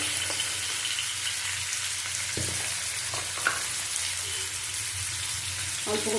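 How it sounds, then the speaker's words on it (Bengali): Gentle, even sizzle of papaya and potato frying lightly in a pan, with a few soft stirring knocks; moderately quiet and close. "হালকা ভাজা হয়ে গেছে, বেশি ভাজবো না।"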